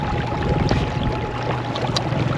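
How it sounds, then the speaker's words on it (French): A small ePropulsion electric outboard motor hums steadily on a 3D Tender 290 dinghy, mixed with water splashing and wind noise close to the microphone. "c'est un petit moteur électrique"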